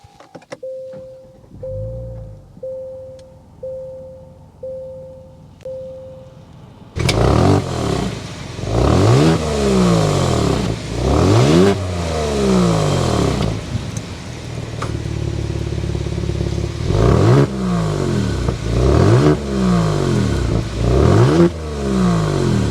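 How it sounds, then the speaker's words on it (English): A 2024 Genesis G70 3.3T Sport Prestige sedan: a door-chime pattern of repeated beeps, then the engine fires up loudly and the exhaust revs several times in rising-and-falling surges, close by with no talk. "start up the G70 so you can hear that exhaust note."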